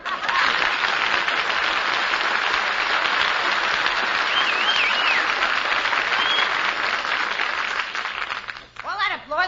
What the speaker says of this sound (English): All that applause for me?